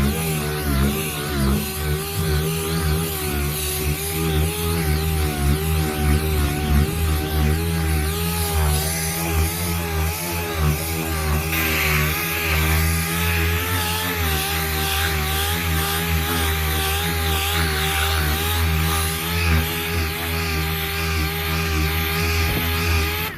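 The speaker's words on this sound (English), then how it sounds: "Just showing you these different areas and how well this sander works" A power sander runs continuously against a wooden door being refinished, a loud steady motor whine with rough abrasive rasp that shifts slightly as the sander moves across the surface.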